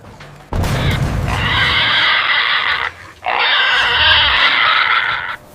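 Wild hogs caught in a trap in Texas squeal in two long, harsh, piercing bursts, loud and close, separated by a brief gap, with scuffling and a low thump at the start.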